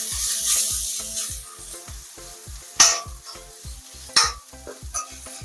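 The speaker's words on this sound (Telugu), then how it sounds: "పసుపు వేసి కొంచెంసేపు ఒకసారి కలిపి" Crab stuffing fries in a pan as turmeric is stirred in, a continuous sizzle broken by rhythmic scraping strokes of the spoon and a couple of sharper clinks against the pan.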